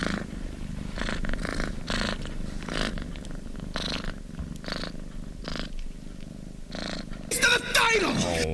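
A cat purrs close up in a steady, rumbling drone while people talk over it, ending in a brief high squeak.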